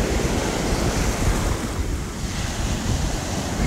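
Ocean surf breaking steadily on the shore at Virginia Beach, a constant loud wash of waves mixed with gusty wind buffeting the microphone throughout.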